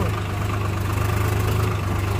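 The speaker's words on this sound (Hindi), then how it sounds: "ट्रैक्टर की ऑफ रोडिंग तो पहली बार देख रहे हो भाई आप तकड़ी ऑफ रोडिंग है ओ भाई यहाँ पे ट्रैक्टर फंस चुका है" A tractor engine runs steadily while offroading on a dangerous rural hill road, a continuous low, loud rumble with an even throb and no gaps.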